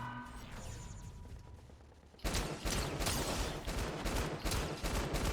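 Video game shooter gunfire: a quieter stretch gives way to sustained, dense bursts of rapid shots that stay loud and close, crackling continuously to the end.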